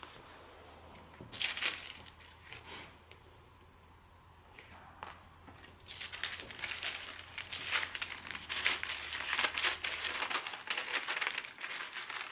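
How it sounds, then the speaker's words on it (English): A strip of tape is pulled off a roll and cut while making a pocket, giving soft crinkling and tearing sounds. They are quiet at first and grow louder and more continuous toward the end. "let me cut a piece of the tape off about the length I'm going to need"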